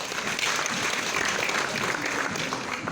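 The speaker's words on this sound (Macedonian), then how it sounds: "Да ги поздравиме и да ги честитиме на добитниците од литературниот конкурс уште еден на вистина голем аплауз." A hall audience applauds the winners of a literary competition at a children's literary festival, dense and even clapping that holds steady throughout.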